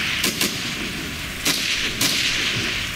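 Gunfire in the video game Trench: a few sharp, loud shots crack in quick bursts, two close together near the start and two more about half a second apart later, over a steady ambient hum.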